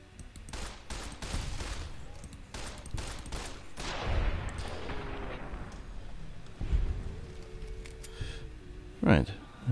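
Rapid pistol gunfire in Fallout New Vegas, a run of sharp shots close together in the first half, then sporadic impacts and a sharp burst near the end, with game ambience in between.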